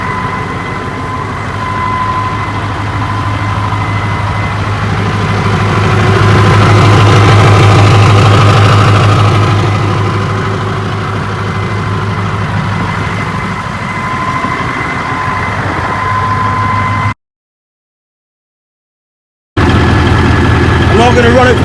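A Kenworth C540 diesel truck engine idles with a steady low rumble and a slight swell in the middle, loud and close, broken by a brief silent gap near the end.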